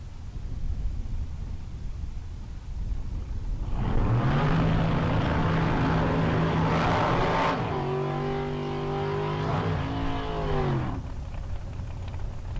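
At a bracket drag race, a Top Sportsman 1969 Camaro and a roadster launch and accelerate hard in loud, rising engine howls that climb through gears, running together before fading, over a background of track noise.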